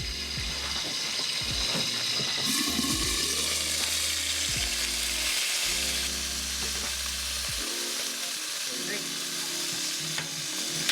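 Gyoza fry in a pan with a steady, loud sizzle and bubbling that runs through the whole stretch, with occasional stirring clatter and splashes, and no talking.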